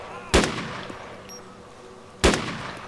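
Two loud, sharp gunshots ring out in the DayZ video game, about two seconds apart, each with a brief echoing tail over quiet ambience.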